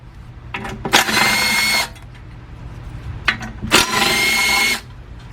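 A power nut driver backs out 10mm oil pan bolts on a 2005 Cadillac CTS with a 3.6 engine. Two close, loud whirring bursts of about a second each are separated by quieter workshop background.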